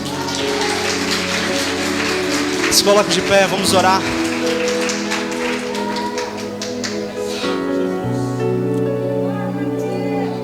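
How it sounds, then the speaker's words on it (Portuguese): A church congregation claps during a worship service, a crackling patter of hands beneath sustained music and a voice speaking over it. "Aplauda Jesus."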